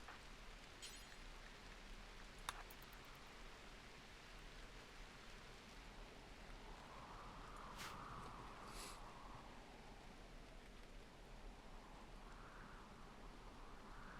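Soft, steady rainfall patter in the game RimWorld with occasional faint drips and brief chimes or clicks over it, no talking.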